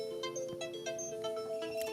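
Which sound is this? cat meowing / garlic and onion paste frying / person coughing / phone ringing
phone ringing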